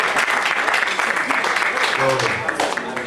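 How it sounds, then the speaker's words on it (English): Listeners at a national pitch competition gala applaud a competitor, brisk crowd clapping at full strength through most of the stretch, with a voice briefly heard over it near the end as the clapping begins to thin. "So let's give him a round of applause."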